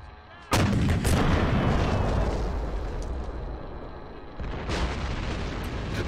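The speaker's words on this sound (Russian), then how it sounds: "Бомбу вторую я взорвал" A bomb detonates in Men of War: Assault Squad 2 with a sudden loud boom, then rumbling blast noise and a second heavy burst partway through in a Cold War battle.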